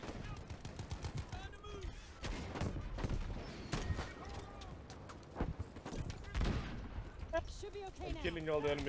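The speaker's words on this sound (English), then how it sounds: "Oh, these tanks are fighting each other" Tank cannon fire and gunfire in a Battlefield V battle, repeated heavy blasts and bursts scattered through a dense, noisy combat mix, with voices talking over it.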